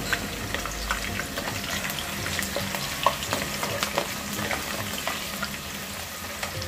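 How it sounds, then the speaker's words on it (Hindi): Potatoes frying in hot oil for a vegetable biryani, giving a steady, continuous sizzle with scattered crackles and pops throughout, fairly close and without any voices. "आलू को तल लेंगे निकाल लेंगे"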